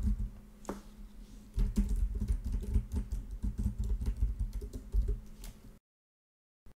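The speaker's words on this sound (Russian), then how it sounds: "я буду просто печатать на клавиатуре" Typing on a computer keyboard, picked up by a USB microphone about 25 centimetres away: rapid irregular key clicks and thumps in steady bursts, then abrupt silence near the end.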